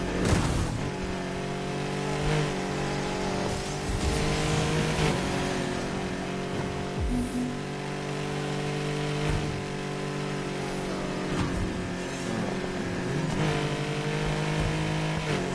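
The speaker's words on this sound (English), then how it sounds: "Ferrari F40." Ferrari F40 engine in a racing video game, revving in steady loud harmonic drones that rise and fall with gear changes, continuous with no talking.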